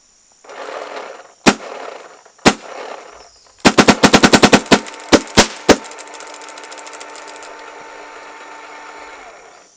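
Paintball markers, a Luxe X, Syx, DSR and 170R, fire: a few spaced single pops, then a rapid burst of about a dozen sharp shots and a few more, followed by a lingering mechanical whir.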